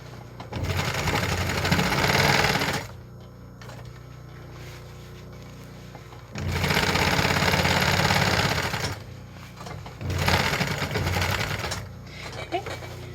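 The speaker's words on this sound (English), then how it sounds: "You're going to do a long stitch length, almost the longest that your machine can do." Sewing machine stitching a pants hem at a long stitch length, running in three loud bursts of steady rapid mechanical chatter separated by brief pauses.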